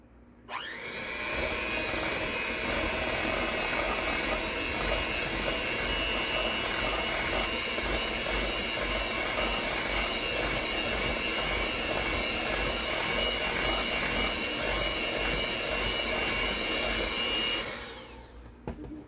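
A countertop blender whirs steadily and loudly for most of the clip as it mixes sweet potato pie filling with sugar and spices, its motor droning continuously before it cuts off near the end.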